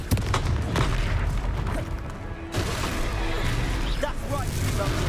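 A Confringo explosion spell in the video game Hogwarts Legacy bursts with a booming blast amid dense game combat noise, while a person talks over the action.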